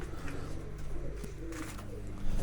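A pigeon coos close up in soft, low, repeated rolling calls, with some rustling and handling noise around it.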